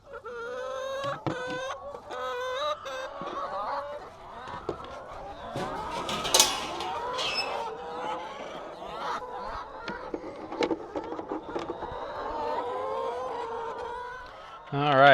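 Flock of about sixty laying hens clucking and murmuring around a backyard coop, with many overlapping calls near and far, a few louder squawks and some faint background voice.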